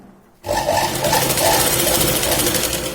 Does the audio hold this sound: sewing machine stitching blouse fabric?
yes